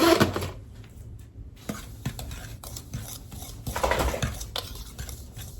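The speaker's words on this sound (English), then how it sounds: "1 teaspoon of baking powder, 1 1/2 teaspoons of baking soda. And we're gonna whisk this." Dry ingredients, almond flour with baking powder and baking soda, are whisked in a bowl: quick scraping, rubbing strokes with a few louder taps, fairly close and alone.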